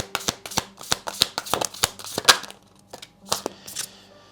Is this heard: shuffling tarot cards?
yes